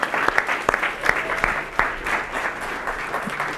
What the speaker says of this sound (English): A big round of applause for Bree.